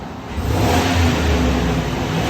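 Stock-exhaust Chevy/GMC 6.6L V8 Sierra SLE revving, the engine note climbing from a lower idle into a sustained, dense, nearby roar that stays even to the end.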